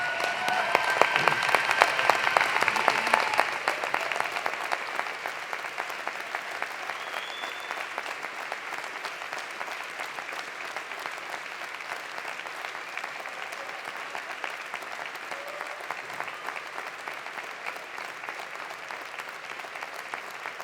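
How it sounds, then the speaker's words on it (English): Graduation convocation audience at a university breaking into sustained applause, loudest in the first few seconds and then settling into a steady, dense clapping that continues for about twenty seconds. "let's give them a huge round of applause"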